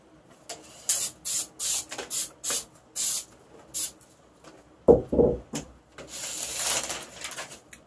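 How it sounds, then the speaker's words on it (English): Aerosol contact cement sprays in a run of short, sharp hissing bursts onto a longbow handle before a leather wrap goes on, followed by a couple of louder knocks and a longer, softer hiss at the end. "Just going to give that a quick little spray."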